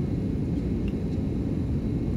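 An airplane descends toward landing, its cabin filled with a steady, even low rumble of engine and airflow that holds unbroken throughout.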